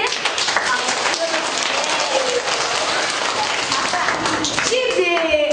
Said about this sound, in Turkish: O zaman alkışlayalım mı seni?